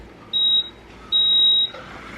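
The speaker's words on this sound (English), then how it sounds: "Makes 2 beeping sounds and then starts whisking it." A special edition Keurig coffee maker gives two clear electronic beeps, a short one followed by a longer one, close and alone before it begins whisking.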